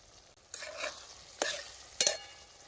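Crushed ginger and garlic drop into hot oil in a pan on a wood-fired clay stove, giving three quick close bursts of sizzling and stirring over a faint background hiss.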